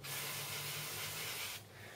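Engine cleaner sprayed from an aerosol can onto a lawn mower air filter, a close, steady hiss lasting about a second and a half before cutting off into quieter background noise.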